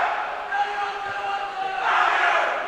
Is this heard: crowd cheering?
yes